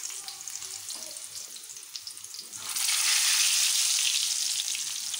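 Stuffed tinda (round gourds) dropped into hot oil or ghee, a faint crackle that bursts into a loud, steady hiss of frying partway through, no talking.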